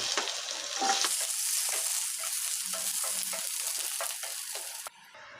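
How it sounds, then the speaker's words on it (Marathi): Onion and ginger frying in oil in a pan for a spicy Marathi soybean curry, a steady close sizzle with scraping stirs and clinks of a spatula, dropping off sharply near the end. "कांदाही आपला मस्तपैकी फ्राय व्हायला लागलेला आहे"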